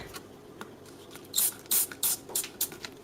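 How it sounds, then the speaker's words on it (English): Several short hissing bursts of stain remover sprayed onto fabric, close by, in a quick irregular series after a moment of quiet. "let's spray a bit of that on there"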